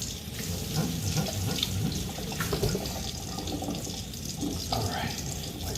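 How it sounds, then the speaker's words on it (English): Tap water runs steadily into a kitchen sink as a plate is rinsed, a continuous splashing wash lasting several seconds. "Rinse this plate off"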